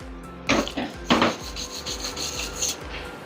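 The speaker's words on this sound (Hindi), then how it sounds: "चिपिंग हैमर अपना काम करता हुआ, चिप्स निकालता हुआ पूरे के पूरे" A chipping hammer knocking slag off a fresh lap-joint weld, giving a few sharp metallic knocks early on and then a steady run of lighter scraping taps, close and fairly loud, with no talk.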